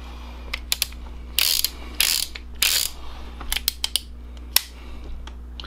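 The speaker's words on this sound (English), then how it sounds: "You're going to hear kind of a click." Several sharp metallic clicks and a few short scraping bursts, close and fairly quiet, as the cylinder pin is slid back into a Heritage Rough Rider .22 LR single-action revolver during cleaning.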